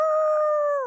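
A person imitates a dog with one sustained, close, loud howl that holds a steady pitch and then bends downward and breaks off at the end.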